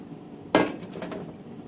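Eggs cracked into a secondary bowl while making cinnamon pâte à choux for pumpkin crème puffs: one sharp, close shell crack followed by a brief wet drip into the bowl, with no talk.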